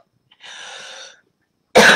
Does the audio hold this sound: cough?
yes